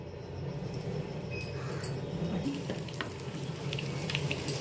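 Besan-battered potato chops fry in hot oil, a steady dense crackling sizzle that continues evenly throughout, fairly close and without talk.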